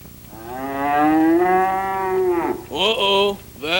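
A cow moos in one long, loud, drawn-out low call, followed by two shorter lowing calls, close and alone.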